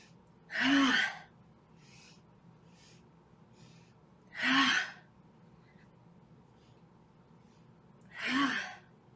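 Deep inhales during a chair yoga session for desk workers: three slow, airy breaths drawn in close to the microphone at even intervals, with quiet pauses between them.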